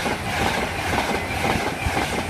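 Virgin Trains East Coast 91124/82210 express runs straight through platform 2 at Grantham station, a steady loud rumble and rush of wheels on rail with faint rhythmic clickety-clack throughout.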